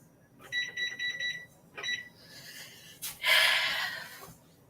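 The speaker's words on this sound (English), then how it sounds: "Gotta turn the timer on for 5 minutes." A kitchen timer being set while baking a Baked Alaska dessert gives a quick run of bright electronic beeps, then a shorter second burst, close and clear, followed by a breathy exhale.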